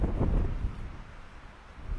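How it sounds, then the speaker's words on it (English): Low, rumbling wind buffets the microphone in gusts among beach dunes at Findhorn Beach, with no voices present. "Still windy though."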